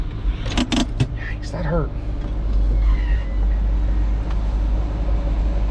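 The convertible top motor of a 1995 Ford Mustang GT hums in a steady electric whine after someone speaks and some brief clatter, running alone for several seconds at close range.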